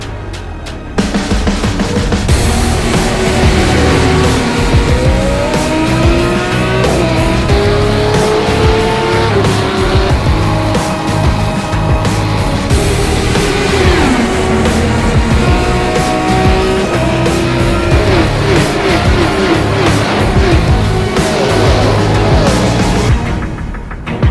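Mazda race cars in the iRacing sim on the Road America circuit, Advanced Mazda Cup, with loud continuous engine drone, shifting pitch through gear changes and tyre squeal across the whole stretch, no talk.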